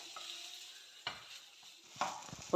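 A cooked snack filling is stirred and mixed in a hot pan, a faint soft sizzle punctuated by a few distinct scrapes and knocks of the spoon, close up and quiet with no talking.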